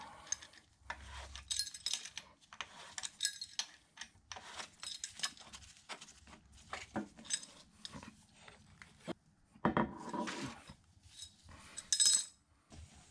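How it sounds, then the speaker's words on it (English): A spanner wrench works a threaded piece loose in the knee of a Kearney & Trecker 2HL horizontal mill, giving sparse metallic clicks, scrapes and clinks at close range in a quiet shop, with a few louder clanks near the end. "There's this threaded piece in the knee that I just need to use this spanner wrench to unscrew."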